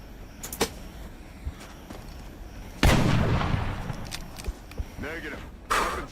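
A weapon shot fired in XCOM Long War: one loud, sharp blast with a rumbling tail that fades over a couple of seconds. A second strong burst follows near the end, amid lighter clicks and a voice.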